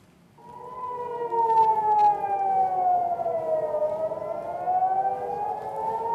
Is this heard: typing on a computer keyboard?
no